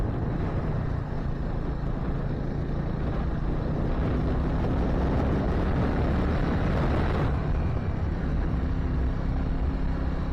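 Suzuki Gixxer 250 motorcycle climbing a winding uphill road on Mount Tsukuba, a steady engine drone heavily mixed with wind buffeting on the microphone, continuous and loud throughout.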